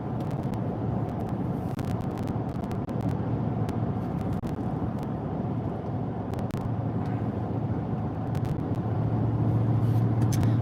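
A Toyota Tundra pickup cruises on a highway in heavy rain, a steady broad rumble of tires on wet pavement and road noise with occasional light clicks, constant and close.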